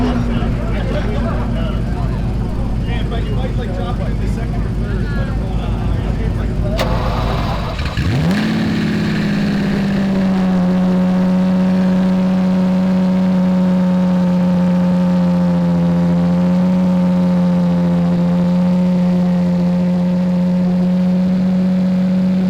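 A manual BMW M3 engine cranks and catches at a cars-and-coffee meet, then settles into a loud, steady idle, with crowd chatter and background bustle before the start.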